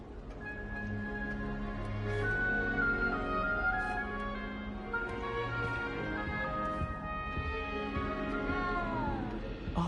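A frightened little cat in Hogwarts Legacy meows with long, wavering, plaintive cries, one after another, close and fairly loud above a low background hum.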